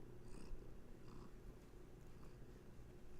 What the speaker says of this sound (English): Oh, you brought some purrs for us.